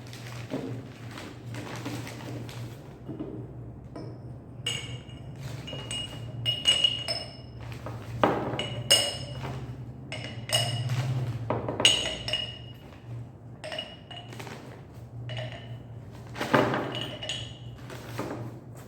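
Small beads poured into an empty glass jar make scattered clinks and pings, irregular bursts of bright tapping spread over a long stretch, with a steady low hum behind.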